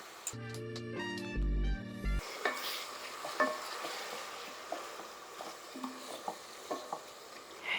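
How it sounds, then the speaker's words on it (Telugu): Onion and ginger-garlic paste fry in a pan for a mixed vegetable kurma. A brief musical tone plays at the start, then a soft sizzle continues beneath repeated light clicks and scrapes of a spoon stirring against the pan. "ఉల్లిపాయ వేగే లోపల అల్లం వెల్లుల్లి పేస్ట్"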